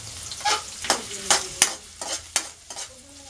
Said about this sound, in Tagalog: saute the onions until it's clear in color